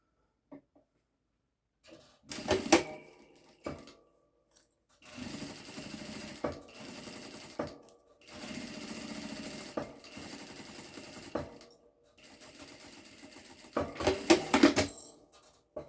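Home sewing machine stitching a lined zippered makeup pouch with a standard presser foot, running in several short bursts of steady rapid mechanical whirring separated by pauses, close and fairly loud with no talking.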